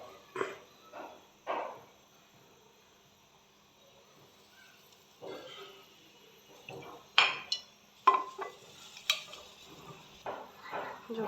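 A cooking pot on a stove has oil added while being prepared for chicken, giving sporadic metallic clinks and scrapes of utensils against cookware, separated by quiet gaps, close and moderately loud.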